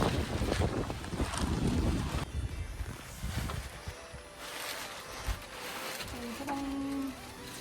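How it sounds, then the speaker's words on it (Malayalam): Wind blowing outdoors at a cool hill-station stay in Munnar, Kerala, a steady broadband rush with microphone buffeting, loud through most of the clip and easing toward the end, with faint tonal sounds late. "കാറ്റുണ്ട് ഇവിടെ."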